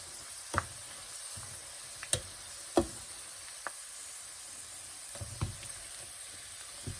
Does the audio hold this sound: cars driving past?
no